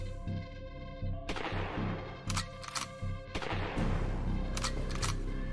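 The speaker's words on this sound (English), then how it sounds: "I also added a sound effect for the shooting and reloading" Gunfire and weapon reloading effects from a 3D horror game built in Godot: loud sharp shots and bursts with mechanical clacks, clear and close, no talking.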